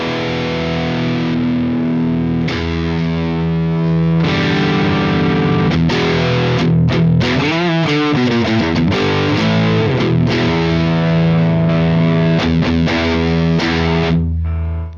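Heavily distorted electric guitar played through a mid-scooped ten-band EQ pedal placed before the amp, loud and sustained chords with a thin, hollow midrange, a brief bending swirl partway through, and no talking.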